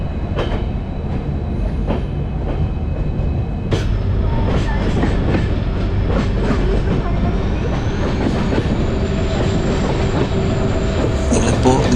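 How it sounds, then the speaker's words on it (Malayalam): A passenger train pulls out of the station on the Mangaluru to Yesvantpur line, with steady loud rolling rumble and clattering wheel clicks throughout, brief knocks and a rising hiss near the end. "നമ്മുടെ ട്രെയിൻ ഏതായാലും സ്റ്റേഷൻ വിട്ടിട്ടുണ്ട് കേട്ടോ."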